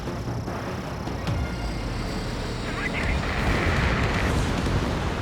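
A loud, sustained roar of an enemy bomber exploding after being shot down in the combat flight game Ace Combat 7, swelling into a broad rumbling blast with jet noise layered over it.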